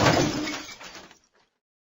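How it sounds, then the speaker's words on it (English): A glass pane shatters as a cricket ball is dropped onto it, one loud bright crash that fades into a few tinkling fragments, followed by a brief sharp sound at the end. "The glass pane shattered."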